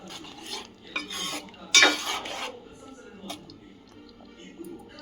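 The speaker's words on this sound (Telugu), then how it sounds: "వేంపి పెట్టుకున్న జీడిపప్పు ఒకసారి అంతా మంచిగా కలుపుకొని" Fried cashews being stirred in a pan with a spoon, giving scattered scraping and clinking strokes of moderate loudness with one sharper clatter, followed by quieter handling.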